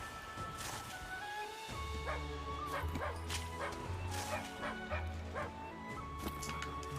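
A dog barks in the video game Monster Hunter Rise: repeated short bow-wows and yips, with a few whimpers, spread over several seconds above steady game music and ambience.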